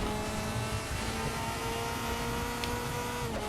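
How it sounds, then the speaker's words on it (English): A Mercedes-AMG DTM race car in the RaceRoom racing game holds its engine on the rev limiter, a fairly quiet, steady, droning engine tone with no breaks. "We're going to do one more lap here as I ride the rev limiter."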